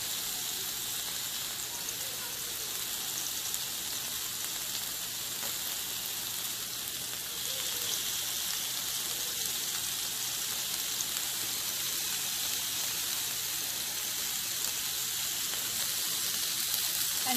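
Persian barg chops of meat sizzling on a grill, a steady, continuous bright hiss of fat and juices that holds evenly throughout with no talk.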